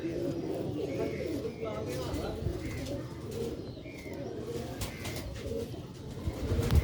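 Sialkoti rooftop flying pigeons coo softly in repeated low calls beneath someone talking, with faint chirps and rustling around them.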